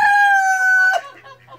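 A close, loud rooster crows on a farm, one strong sustained call lasting about a second that cuts off sharply, followed by a few softer clucking notes.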